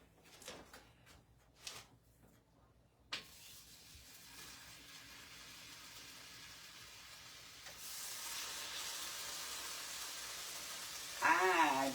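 Bacon frying in a skillet at breakfast, a few sharp knocks and clatter first, then a steady sizzle that grows louder and brighter toward the end, with no one talking.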